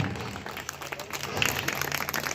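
A gurukul audience claps continuously, dense close applause of many hands with a faint voice mixed in underneath.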